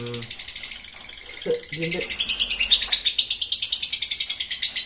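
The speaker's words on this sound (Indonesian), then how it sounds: "Jadi pasangan yang pertama Lovebird Sonic itu warnanya olive" An olive Sonic lovebird chirps in a rapid, repeating series of bright, evenly pulsed calls, close and loud, after a person speaks briefly at the start.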